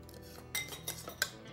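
Wet and dry baking ingredients being mixed in a bowl with a utensil: a few quick, close scraping and clinking strokes over about a second and a half, quiet and without talk.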